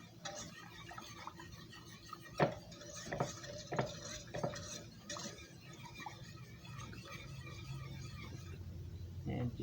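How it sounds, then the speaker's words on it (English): Spoon stirring a salted scalloped potato mixture in a bowl, with a few sharp clinks against the bowl and a steady scraping churn close by. "Mix it up real good."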